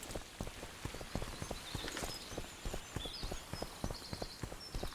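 Hooves of Geralt's horse Roach clip-clopping in The Witcher 2: Assassins of Kings, a steady rhythmic trot of close, crisp hoofbeats over a soft rain-like hiss, with faint chirps above.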